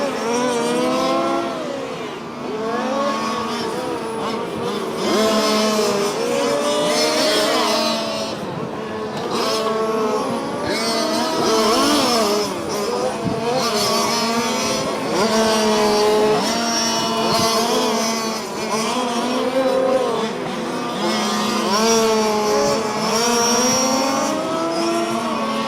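Race cars roar around a track during a live race, engines rising and falling in pitch as they rev and shift, several cars overlapping loudly and continuously across the whole stretch.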